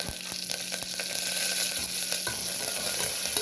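Crushed black pepper and curry leaves frying in a pan for masala khichdi, stirred with a spoon in steady scraping strokes over a continuous close sizzle.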